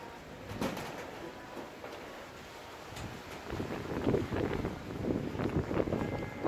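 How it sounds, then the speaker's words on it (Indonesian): Gusty wind buffets the microphone with low rumbling surges that grow stronger toward the end, and a bird calls faintly in the background. "Anginnya kencang."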